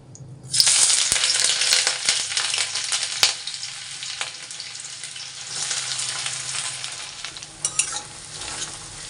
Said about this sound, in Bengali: তেল গরম হয়ে গেছে এবারে হচ্ছে আমি পেঁয়াজগুলো দিয়ে দিব